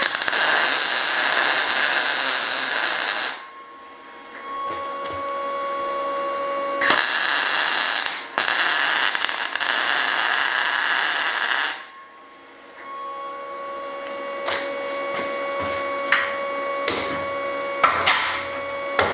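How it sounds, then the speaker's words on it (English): Steel bar pieces being arc welded for a bending jig, heard as three long bursts of loud, dense crackling separated by short pauses, with scattered clicks and taps between welds and no talking. "So I'm just going to tack these together and then weld them up fully."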